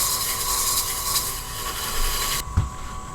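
A coarse green mesh abrasive pad rubs against turned wood spinning on a lathe, producing a loud, continuous scratchy hiss over a steady motor hum that cuts off abruptly near the end, followed by a single soft knock.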